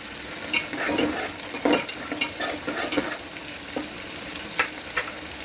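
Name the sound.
green peas being roasted and stirred in oil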